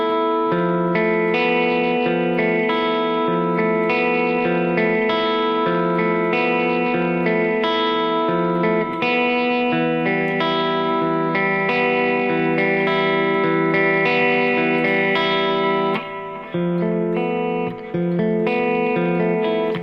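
Loud, effect-laden electric guitar strummed in a repeating down-down-up rhythm, chords ringing steadily for the whole stretch with no voices.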